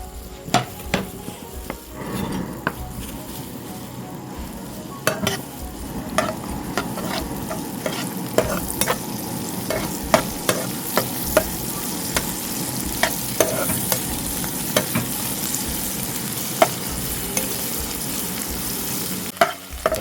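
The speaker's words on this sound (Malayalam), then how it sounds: "നമ്മുടെ ചെറുള്ളി ഇതായി നമുക്ക് ഇതിലേക്ക് ഇട്ട് കൊടുക്കാം" Shallots fry in a pan for a mutton heart roll, giving a steady hissing sizzle with frequent sharp scrapes and taps of a spoon against the metal throughout, close and loud, with no talking.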